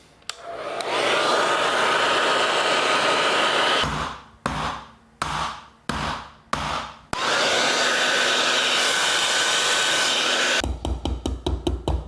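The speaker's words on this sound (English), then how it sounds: "And it involves this hair dryer." A hair dryer blows around the edges of a cheesecake with a loud, steady whir, cutting off and restarting in several short bursts before running long again, then ending in quick pulses.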